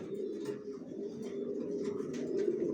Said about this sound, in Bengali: জনসনের লং এর কবুতর দিয়ে শর্ট মিডল লং সবভাবে রেস করা যায়।